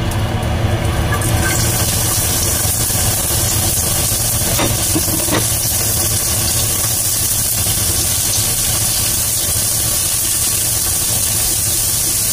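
Onions sautéing in a pan for chicken breast, a loud, constant hissing sizzle that stays steady throughout, close up, with no talking.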